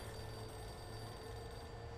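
A telephone rings inside the Alan Wake video game, a steady electronic bell tone carrying through the clip over a low ambient hum, moderately quiet with no speech.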